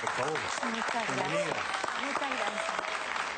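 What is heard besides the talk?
studio audience applause for a guest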